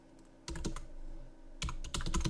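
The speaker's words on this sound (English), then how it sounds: "in here, we're going to type in" Keys clatter on a computer keyboard while an invoice is filled in, short bursts of rapid keystrokes split by a brief pause, close and fairly quiet.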